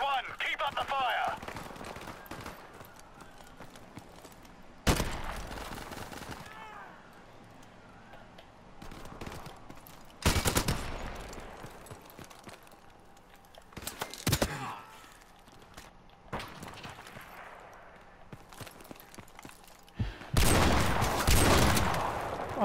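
Bursts of gunfire from a shooting video game, several loud volleys at roughly five-second intervals over a low, busy game backdrop, with quieter stretches of ambience between the shots.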